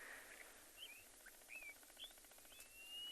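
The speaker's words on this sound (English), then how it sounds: "there was a clapperlark that was calling again" A clapperlark calls in South African grassland, with several short, thin, high whistled notes spaced over a few seconds, faint and distant against a quiet outdoor background.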